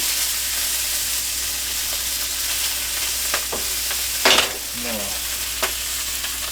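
Conecuh sausage frying in a pan, a steady low sizzle running throughout with a few brief scrapes and clatters of turning near the end, no voices.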